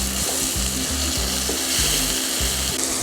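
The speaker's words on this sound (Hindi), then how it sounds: "मसाले को अच्छी तरह से भून लेंगे" Crushed green and red chillies, ginger-garlic paste and spices fry in a pan with a loud, constant sizzle, broken by a regular low knocking that repeats about every half second.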